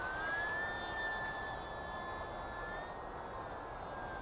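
A small remote-controlled Zippy 350 airplane taking off in fog, its thin electric motor whine holding a steady high tone that drifts slightly in pitch over a continuous airy hiss, with no talk.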